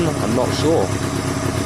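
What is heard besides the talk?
Honda CB250 motorcycle engine idling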